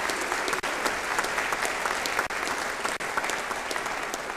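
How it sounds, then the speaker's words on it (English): Steady applause from an audience at a senior hall of fame induction ceremony, dense continuous clapping held for about four seconds with no voices over it. "with a hand clap this morning"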